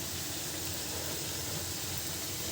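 Teler pitha frying in a wok filled with hot oil produces a loud, continuous, even sizzle and hiss that fills the whole moment without a break.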